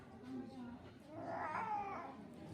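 A cat makes a faint, drawn-out meow while eating, heard over a soft background murmur of human voices.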